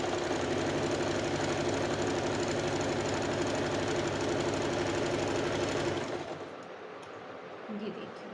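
A sewing machine runs steadily, stitching the curved lower corner of an A-line kurti with a fast, even mechanical clatter for about six seconds before stopping and leaving a quiet room.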